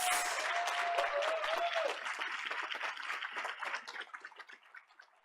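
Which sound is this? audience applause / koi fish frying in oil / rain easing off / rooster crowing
audience applause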